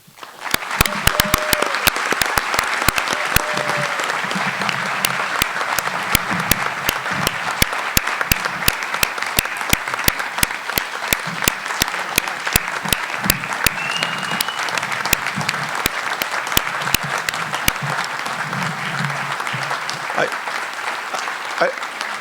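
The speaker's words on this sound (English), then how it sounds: "I noticed that Mike is not joining in that applause." An audience at an annual town meeting applauds for a long stretch, with many hands clapping in a dense, even roar. A few scattered louder claps stand out near the front.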